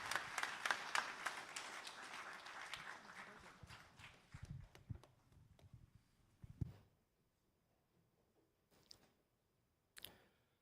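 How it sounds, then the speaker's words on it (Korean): Faint applause in a church service fades out over several seconds, leaving a quiet hall with only scattered claps and small knocks afterward. "들어가실 때까지 큰 박수 부탁드리겠습니다."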